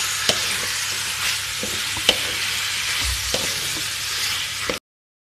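Ground chili paste sizzles and fries with beef for tongseng while being stirred, with a steady close frying hiss broken by a few sharp clinks and scrapes of the utensil against the pan.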